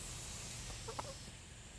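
Backyard chickens from a small egg-laying flock clucking softly in short, faint calls over a steady background hiss, with no talk.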